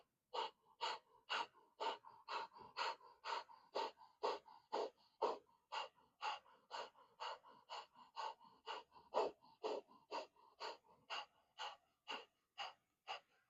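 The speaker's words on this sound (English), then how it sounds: "We're going to do breath of fire." Rapid rhythmic yogic breath of fire, about two sharp nasal breath bursts per second in a steady unbroken series, close and fairly quiet, with no talking.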